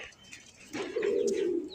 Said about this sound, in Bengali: খুবই সুন্দর এক জোড়া কবুতর দেখেন